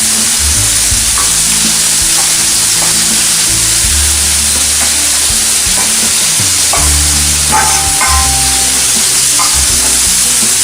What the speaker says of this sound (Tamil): எண்ணெயில் நல்லா கொஞ்சம் இது வந்த பிறகு அதுக்கப்புறம் இந்த கருணக்கிழங்கு போடும்.